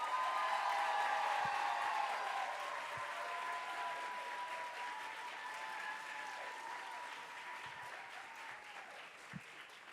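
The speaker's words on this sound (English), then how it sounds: "Can we please give our special guest one more round of applause?" Warm round of audience applause for a special guest at a youth poetry slam finals on the Millennium Stage, a dense sustained crowd clapping that slowly tapers, with faint voices underneath.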